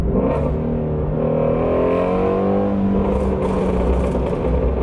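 A GT350 sports car with a new, louder exhaust roars loudly at high revs, the exhaust note rising and falling as it accelerates and shifts, close and continuous.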